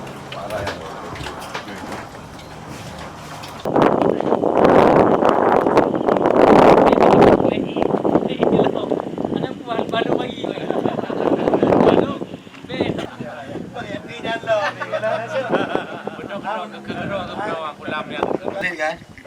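Strong wind buffets the microphone at sea off Lhokseudu in Aceh Besar, with loud gusting rumbles rising and falling, while people talk throughout.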